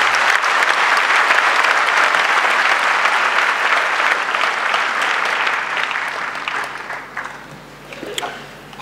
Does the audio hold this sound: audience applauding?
yes